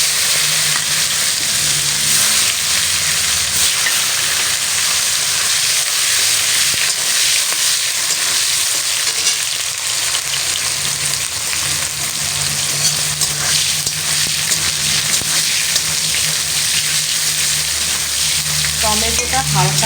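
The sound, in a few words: tomatoes frying with dried chilli in pan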